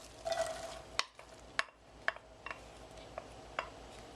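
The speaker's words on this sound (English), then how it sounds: "And we're going to saute the onions a bit." Onions sauteing in hot oil in a pan for an eggplant dip, a quiet steady sizzle broken by several sharp clicks and taps of a utensil against the pan, no talking.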